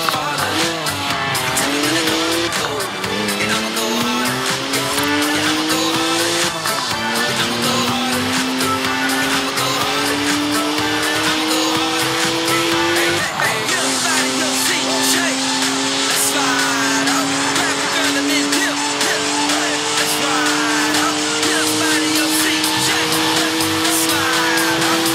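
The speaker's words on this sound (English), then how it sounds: "3-litre straight six, 335 horsepower, two turbos, as much sideways action as you like." A BMW 1M with a 3-litre twin-turbo straight six making 335 horsepower drifts in Forza Horizon 4, its engine droning loudly and continuously while tires squeal in long, rising and falling wails throughout.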